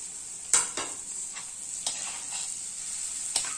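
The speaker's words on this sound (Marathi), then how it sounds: "आपण अशी करता करता अशी हळूहळू टाकून देऊया। 2-3 मिनिटे परतून घेऊया।" Tandulka, a leafy green vegetable, being sautéed in a pan: a steady high sizzle with a few sharp stirring scrapes and clinks at intervals, close and fairly quiet, no talking.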